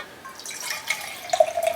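Water poured into a martini glass while making a gel wax candle, heard as light splashing and dripping trickles that grow toward the end, fairly close and quiet.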